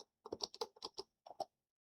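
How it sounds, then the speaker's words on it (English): Computer keyboard keys tapped in a quick burst of about nine clicks, a short pause, then two or three more, close and fairly quiet with no voice. "now I'm going to type in my wrist measurement"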